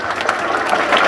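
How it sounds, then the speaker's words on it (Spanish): Brief burst of steady crowd applause at an outdoor school-supplies handover event, loud and continuous throughout. "regalémosles otro fuerte aplauso."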